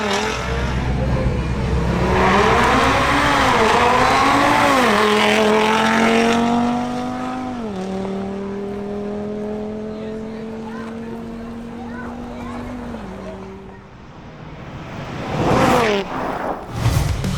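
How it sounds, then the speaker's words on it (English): An Audi RS3 roars down a drag strip on a timed run, its engine climbing through several rising gear sweeps with brief dips at each shift, then fading. An announcer talks over it. "Finally, making another run, we see Pablo Galán in his Audi RS3."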